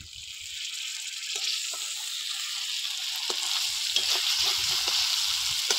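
Fried eggplant pieces drop into hot oil with spices for a vegetarian Begun Bahar, giving a steady close sizzle and crackle with a few light stirring knocks.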